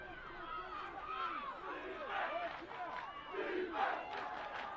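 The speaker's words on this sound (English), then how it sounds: "suddenly the St. Paul's crowd goes up asking for the defence" St Paul's College supporters at a schoolboy rugby match chant for defence, a rising and falling crowd roar with overlapping voices, heard at a distance and fairly faint.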